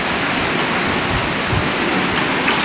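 Floodwater runs after heavy rain in Jamnagar, producing a loud, continuous broadband rush with no breaks, close to the listener and heard alone.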